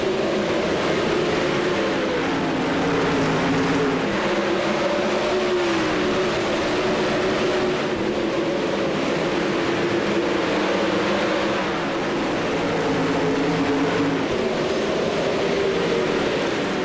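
Winged sprint cars accelerating in a racing sim at Volusia, a loud continuous engine drone with wavering, rising pitch from several cars at once, steady throughout.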